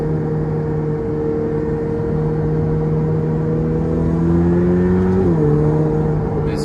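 A Ferrari F8 Tributo V8 pulls hard under acceleration, its engine tone climbing steadily before a quick upshift drops the pitch near the end; loud, close cabin sound with no talking.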